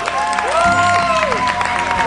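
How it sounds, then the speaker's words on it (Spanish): A television studio audience on the Argentine variety show Todos Juntos applauds and cheers steadily and loudly, with crowd noise filling the whole short stretch and a sustained musical tone sounding underneath. "está la señora María Concepción César, a quien pido un fuerte aplauso."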